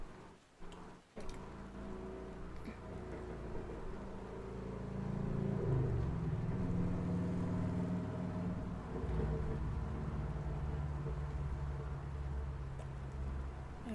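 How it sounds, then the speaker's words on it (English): A loud motorcycle passes outside a room, its low engine rumble swelling after a few seconds and holding steady, heard from indoors with some distance. "there was a loud motorcycle outside"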